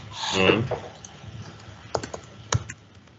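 An email address is typed on a computer keyboard, a scattering of light key clicks following a brief burst of nearby speech.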